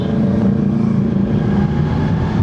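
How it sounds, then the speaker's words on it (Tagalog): Honda CBR650R motorcycle engine running rough on a cold start, a steady loud, uneven low rumble with a gritty, slightly irregular idle, close up and without talk. "maligas-gas ang tunog ng kanyang makina sa cold start."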